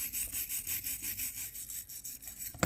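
A .410 gun barrel cleaning brush scrubs a brushless motor, a quick, close back-and-forth bristly rasp with steady strokes, fairly faint and alone.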